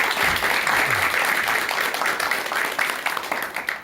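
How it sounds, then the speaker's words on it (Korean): An audience in a lecture hall applauds to welcome a lecturer, a dense burst of clapping that stays full for a few seconds, then thins into scattered claps. "큰 박수와 함께 박사님의 강의 청해 듣도록 하겠습니다"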